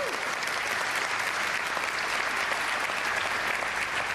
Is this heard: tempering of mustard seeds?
no